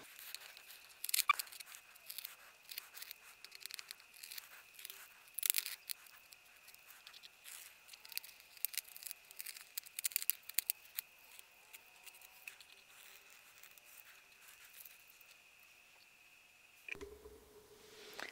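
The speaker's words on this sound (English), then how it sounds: "So let's get into the tape pull." Masking tape peeled slowly off a watercolor painting, a long, quiet, continuous tearing and crackling with small sharp spikes as the adhesive lets go, close and faint, ending abruptly.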